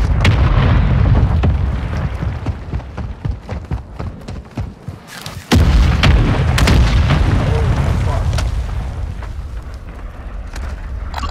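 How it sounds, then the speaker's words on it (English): Uzi gunfire and explosions in the video game Warzone 2: loud, dense bursts of rapid shots and heavy booms run almost continuously, with sharp cracks, a brief dip mid-clip, then another sudden blast and ongoing fire, with muffled voices underneath. "I'm gonna shoot that."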